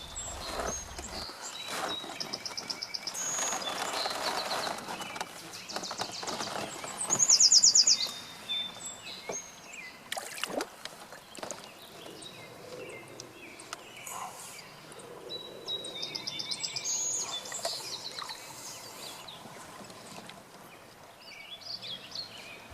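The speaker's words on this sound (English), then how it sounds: "The birdsong surrounding us from the willows on the banks" Birds sing and chirp from willows on the bank of Diversion Reservoir, scattered calls near and far over a faint outdoor background, with one louder burst of song partway through.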